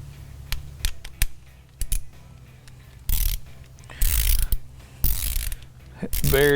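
A ratchet wrench tightens water pump bolts on a Ford 6.0 Powerstroke diesel engine in a crisscross pattern. Close, sharp bursts of ratcheting clicks come in short runs separated by quiet pauses, with no talking.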